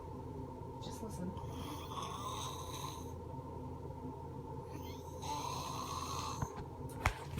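A young girl snores while asleep, two long drawn-out rumbling snores several seconds apart, close and fairly loud against a quiet room.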